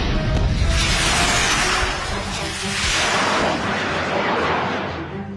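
Missile launch firing in an Iranian action film based on a true story, heard as a loud, sustained roaring blast with a whooshing rush that stays heavy across several seconds, dense and close.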